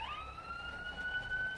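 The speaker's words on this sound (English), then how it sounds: "that was a fire truck" A fire truck siren sweeps past a car on a rainy day, one sustained rising wail heard clearly from inside the vehicle with no talking.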